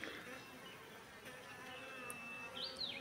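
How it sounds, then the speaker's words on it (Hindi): Honey bees buzz around an open hive box during queen rearing, a steady close drone of many insects with a few sharper passes near the end. "अब पोलन भी ला रही है मक्खी।"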